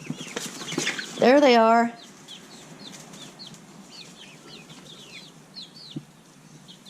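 Five-week-old chicks waiting for mealworms give soft clucks and small chirps near a person, with a brief flutter of wings and a short spoken phrase early on.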